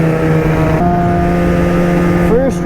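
Snowmobile on the Catalyst platform riding on its first ride of the year, its engine droning steadily and loudly throughout with a sustained tonal hum that shifts pitch briefly near the end.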